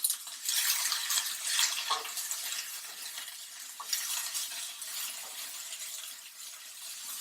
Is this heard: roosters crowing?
no